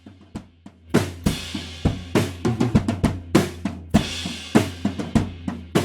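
Live drum kit picked up through an AT2020 room microphone, with roomy kick and snare hits, crashing cymbals and fills in a busy steady groove, loud and reverberant.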